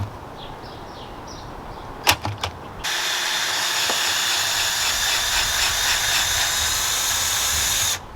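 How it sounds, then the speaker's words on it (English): A power drill running in reverse whirs steadily for several seconds after a couple of sharp clicks and taps, running loud and close before cutting off. "So we've got our drill now, and we're gonna move this into reverse and put her on."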